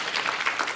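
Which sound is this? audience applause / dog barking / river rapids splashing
audience applause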